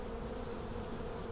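Honey bees buzz around their hive, a dense, steady high-pitched hum from many insects close by, continuous and unbroken, with no voices.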